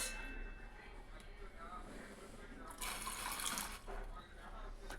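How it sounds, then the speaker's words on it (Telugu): Water splashing and pouring into a bowl of water balls set on a gas stove, faint at first then a louder gush in the middle, with a person talking over it. "కొంచెం వాటర్ వేసుకున్నాం ఫ్రెండ్స్."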